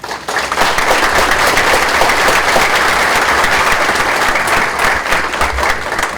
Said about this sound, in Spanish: les pido un aplauso para ella